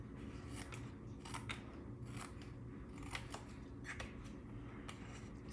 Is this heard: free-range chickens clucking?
no